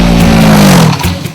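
A TVS Apache RTR200 motorcycle with a 198cc oil-cooled four-stroke engine revs loudly and close, a throaty rise that falls away after about a second.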